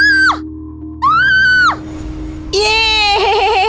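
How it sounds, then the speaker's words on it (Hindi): A woman screams loudly in a horror-story sound effect, three long, piercing wails that rise and fall, close and alone. "जोर से चीख पड़ी।"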